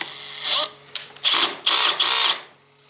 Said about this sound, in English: maybe let's try the drill